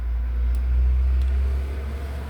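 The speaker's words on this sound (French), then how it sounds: "Voilà, le camion est passé." A truck passes outside, a heavy low rumble that swells and then eases off over a couple of seconds, muffled and fairly close with no talk.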